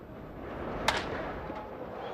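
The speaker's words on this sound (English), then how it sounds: "And he lines a base hit into left field." A single sharp crack of a baseball bat on a line-drive base hit during a 1999 Padres at Expos game cuts through low, steady ballpark crowd murmur.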